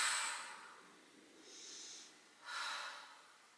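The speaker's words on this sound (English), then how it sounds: "Deep breath in and out." Deep breathing during a yoga workout, three soft, close breaths with airy hiss swelling and fading, the first strongest, in an otherwise quiet room.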